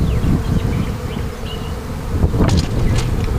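Honey bees in an opened hive during a spring inspection, a dense, close buzzing swarm with individual bees droning past near the ear and occasional sharper flyby whines.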